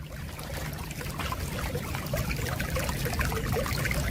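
Floodwater from a flash flood rushes steadily through a DIY French drain with 4-inch grates, a continuous close, full-bodied gurgling and trickling flow with no pauses.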